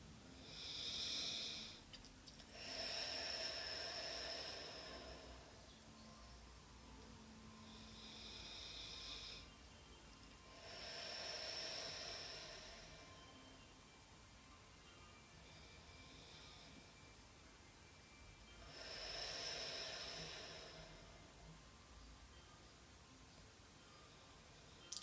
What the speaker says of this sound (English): take 3 breaths coming in through the nose and out through the mouth, just as long and gentle as you can do in a relaxed manner